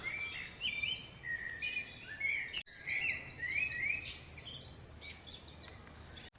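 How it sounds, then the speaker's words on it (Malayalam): Many birds chirp and trill together in the background in the UK countryside, a busy overlapping chorus of high calls with no voices. "ബാക്ക്ഗ്രൗണ്ടിൽ ഫുള്ള് പക്ഷികളുടെ മ്യൂസിക്കാണ്."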